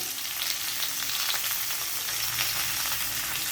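Spices, coriander leaves and tamarind sizzle and crackle as they roast in hot oil in a pan, a steady close frying hiss with no talking.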